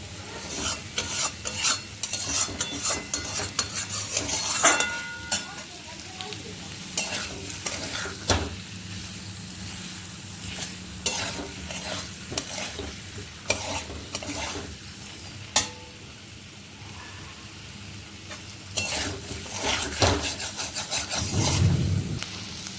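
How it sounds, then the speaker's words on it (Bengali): Spiced masala frying in oil in a pan, stirred with a spatula: steady sizzle with repeated scraping and stirring strokes, close and fairly loud, with no voices. "নুন দিয়ে দিলাম আর একটু নাড়াচাড়া করে জল দিয়ে দেবো।"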